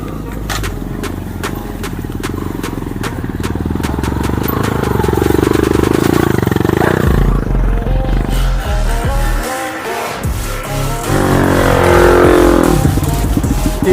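A trail motorcycle labors up a steep mountain route, its engine revving and bogging unevenly, sputtering close by, with the rider's voice coming through in short bursts around it.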